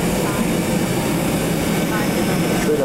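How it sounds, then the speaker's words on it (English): Airplane taxiing to the terminal in Hawaii, a steady low engine rumble with a constant whine heard from inside the cabin, continuous and moderately loud throughout. "No, taxiing to the terminal in Hawaii."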